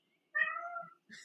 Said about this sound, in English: I hear a little kitty cat.